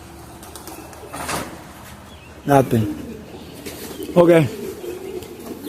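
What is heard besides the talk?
homing and tippler pigeons cooing and flapping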